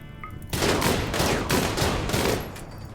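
RimWorld battle against mechanoids: a dense burst of rapid gunfire erupts after a brief quiet opening and rattles on for over two seconds in overlapping volleys before tapering off.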